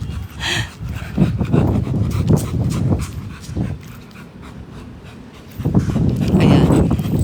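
A dog pants heavily in quick, rough breaths close by, with soft whimpers mixed in and someone talking over it.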